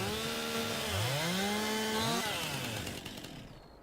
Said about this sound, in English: With the chainsaw going